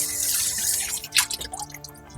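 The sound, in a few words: water rinsing out the cornstarch bowl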